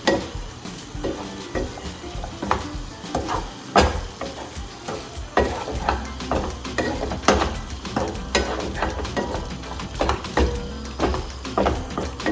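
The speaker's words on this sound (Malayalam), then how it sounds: "എല്ലാം മുട്ട ഇട്ട് കൊടുത്തതിന് ശേഷം ഒന്ന് നന്നായിട്ട് ഇളക്കി കൊടുക്കണം" Eggs stirred into a sizzling onion masala for a Kerala egg roast, a steady fry hiss broken by repeated scraping knocks of the spoon against the pan, loud and close, no voices.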